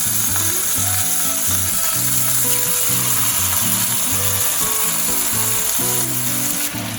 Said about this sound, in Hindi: जैसे ही हमारा बटर मेल्ट होना शुरू हो जाएगा तो अब हम इसमें डालेंगे चिकन के स्क्यूअर